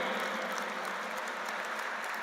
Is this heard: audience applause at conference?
yes